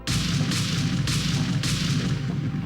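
Heavy booming explosions sound in the stealth action game Metal Gear Solid 2: Sons of Liberty, several deep blasts roughly every half second over a continuous low rumble, loud and close.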